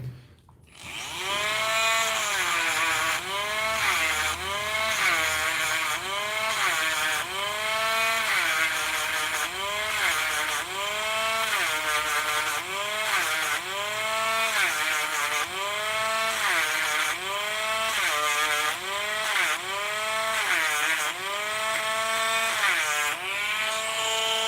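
A rotary power tool sands a silver ring in a continuous whine that rises and falls in pitch with a repeating rhythm as it bears against the metal. The grinding stays close and steady for the whole stretch.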